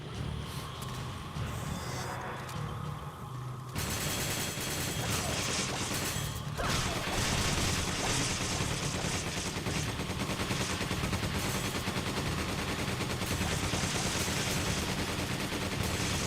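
Sustained gunfire in Resident Evil 5 as an enemy is shot over and over: loud, rapid, continuous shots with mechanical clatter and crashes running for the full stretch, no voices.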